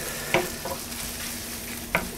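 Coarsely chopped shrimp fry in a pan over medium-high heat, giving a steady sizzle with two sharp clicks of a utensil against the pan.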